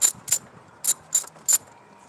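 Ratchet wrench clicking as a bolt is loosened on a 2009 Chevrolet intake, five short sharp bursts of clicks spaced irregularly, close and fairly loud with nothing else around.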